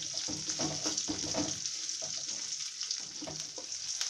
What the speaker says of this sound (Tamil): இப்போ இந்த வெங்காயம் நமக்கு கொஞ்சம் வதங்கணும்.